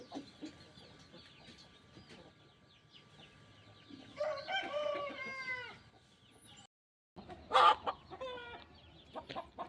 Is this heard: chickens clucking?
yes